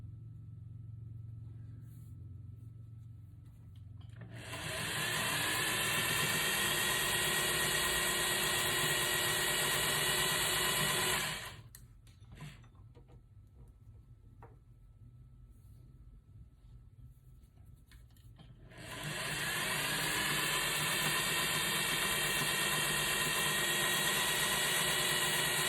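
A sewing machine stitches in two long, loud bursts of steady motor whine, cutting off abruptly between them to a quiet, low hum before starting up again.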